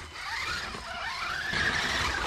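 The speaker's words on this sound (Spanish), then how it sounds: "pulsando el gatillo, ya sea poco o mucho, el coche se lanza y sale a la carretera" A WLTOYS Wrangler 1:10 RC crawler car launches forward onto a road, its small electric motor giving a rising, whining squeal that climbs in pitch over a couple of seconds, close and fairly loud.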